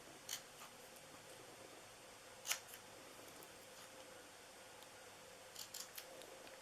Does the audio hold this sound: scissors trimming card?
yes